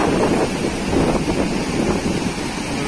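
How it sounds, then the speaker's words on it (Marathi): Sea waves wash onto the shore under strong wind, a dense, steady roar of surf and rushing air with no pauses. "लाटा पण खूप छान आहेत"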